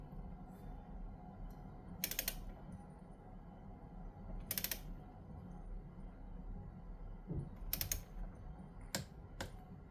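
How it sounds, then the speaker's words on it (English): A repaired power tool's clutch clicks as it reaches set torque, four short bursts of rapid ratcheting clicks spaced a few seconds apart over a faint low hum. "This will just kink whenever it gets to the set torque, or you hear it just click"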